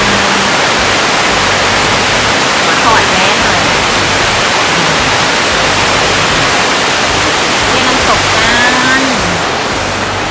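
Nan Chon waterfall rushing in a forest setting, a loud, constant broadband roar of falling water that fills the whole stretch without letup, with faint bird calls or voices barely surfacing.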